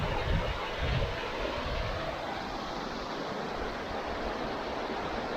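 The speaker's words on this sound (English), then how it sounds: "under the bridge is this beautiful mountain stream" A mountain stream runs under a footbridge beside a forest trail among giant trees, with red rocks in the clear water, making a steady, broad rushing wash that stays fairly loud and continuous throughout, with no talking.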